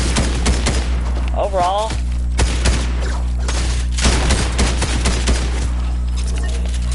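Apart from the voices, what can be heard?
shotgun gunfire in a video game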